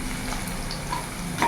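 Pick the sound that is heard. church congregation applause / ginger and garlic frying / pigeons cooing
ginger and garlic frying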